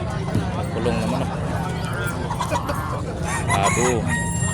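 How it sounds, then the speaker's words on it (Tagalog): Caged chickens at a rural animal market in San Carlos, Pangasinan cluck and crow in bursts, with a rooster call rising near the end amid background crowd babble and voices. "Kulong na manok."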